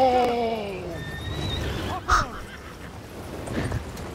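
Horse in the Battlefield 1 video game gives a loud, close whinny that falls away over about a second, followed by a sharp thump and quieter background rumble.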